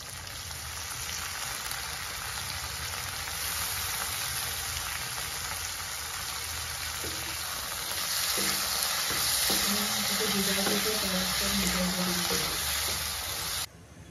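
Tomatoes fry in a pan with onion, green chili, ginger and garlic, giving a steady, loud broadband sizzle throughout, with scraping stir strokes and clinks joining in the second half.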